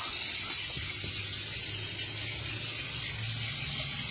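Steady running water flows and gushes continuously through freshly repaired bathroom plumbing, like a tap or pipe feeding a sink, fairly close with no talking.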